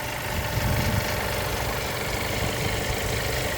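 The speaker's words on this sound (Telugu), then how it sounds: "ఇంజన్ సైలెంట్గా ఆడుతుందండి, పెట్రోల్ ఇంజన్ ఆడినట్టు ఆడుతుంది ఇంజన్ సూపర్." A petrol car engine idles at a used-car dealership in Khammam, giving a steady, even rumble with a low hum that holds close and continuous throughout, with no voices over it.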